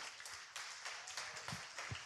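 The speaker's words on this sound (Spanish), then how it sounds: "Dale un aplauso a Jesús" A church congregation applauds together, a dense, steady wash of clapping heard from a distance at a fairly faint level.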